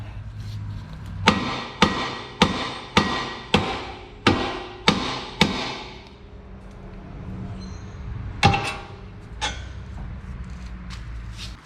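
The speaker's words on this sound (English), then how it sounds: "To break the tie rod loose, we're going to go ahead and smack right here with the hammer." A hammer strikes a Honda Accord's steel tie rod eight times in a quick steady series, sharp ringing clanks up close, followed by a pause and a couple of scattered knocks.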